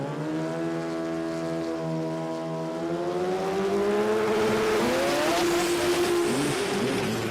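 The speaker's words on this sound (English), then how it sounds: "Quad rotor, twin turbo Camaro, 2JZ in the Toyota." Drag racing cars at a street-car jamboree, including a quad-rotor, twin-turbo Camaro and a 2JZ Toyota, roaring loudly with rising engine pitch as they accelerate hard down the strip, a continuous dense blare with no talk.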